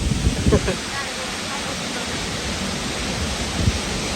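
A waterfall in Scotland makes a steady, rushing hiss that runs continuously, with a few brief bumps of nearby movement at the start.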